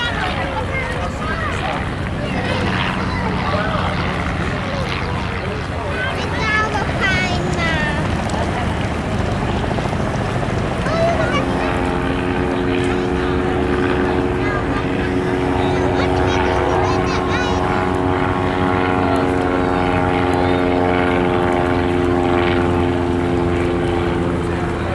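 Droning World War I propeller aircraft engines roar steadily throughout at an airshow, a thick rumbling buzz that shifts into a smoother, rising hum as aircraft pass nearby.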